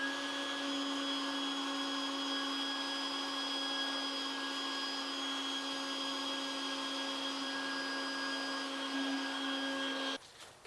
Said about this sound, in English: I finished vacuuming the outside condenser coils